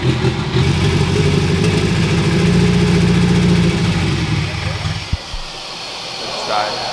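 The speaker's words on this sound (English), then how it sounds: "Today we got the 240 to fire up" A Nissan 240SX with a KA24 engine cranks and fires, then runs loud and steady at close range with a rough low rumble before cutting out near the end.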